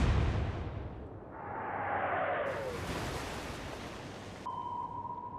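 A Royal Navy warship's naval gun fires in the Atlantic Fleet video game: a deep boom at the outset, then a rising whoosh and a sustained roar over constant ocean noise, with no voices.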